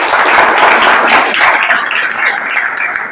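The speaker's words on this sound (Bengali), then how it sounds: "সবার জন্য একটা করতালি দাও" A room full of people clapping for 111 successful Bangladesh Police constable recruits, a dense, loud burst of applause that holds steady and then tapers off slightly toward the end.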